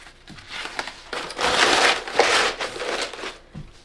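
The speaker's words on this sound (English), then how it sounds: "And I'm going to put in this bubble paper." Bubble paper is pressed and stuffed into a shipping box, giving close, loud crinkling and crushing in several bursts.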